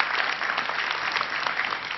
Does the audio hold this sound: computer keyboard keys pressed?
no